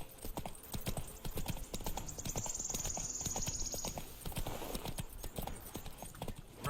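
Roach the horse gallops in The Witcher 3, with rapid rhythmic hoofbeats running steadily throughout, a brief whinny rising in the middle, and quiet game ambience beneath.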